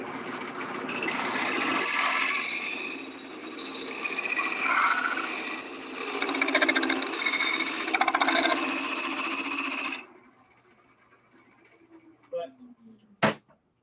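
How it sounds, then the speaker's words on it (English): A wood lathe turns end grain as a scraper cuts it, a loud, close, rough scraping whir that runs for about ten seconds, then stops, leaving a few faint knocks and a short high squeal. "it's really hard to turn end grain and get it smooth, especially with a scraper"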